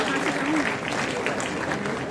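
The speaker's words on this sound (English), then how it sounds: "Please have a huge round of applause for them." An audience applauds at a school cadet investiture ceremony, a dense continuous wash of clapping from a crowd with a voice speaking over it.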